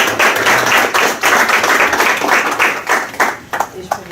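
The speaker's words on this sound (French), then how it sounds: "Je vous demande d'applaudir chaleureusement." An audience applauds warmly at a conference on immigration and integration, loud close clapping that is dense at first and thins into scattered claps, with a voice speaking over it.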